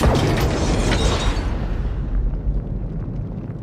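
An action-film explosion blast hits loud and broad at the start, then rumbles and decays into a lingering low roar.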